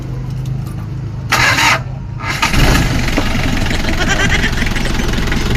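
A car's engine cranks on a retry after a fault, with a jingle of keys, a short starter burst, then catches and settles into a loud, steady idle close by.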